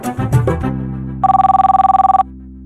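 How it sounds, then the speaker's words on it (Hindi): A telephone rings in a Hindi comedy scene: one loud, rapidly trilling electronic bell burst of about a second, over a steady sustained musical tone. "घंटी जा रही है।"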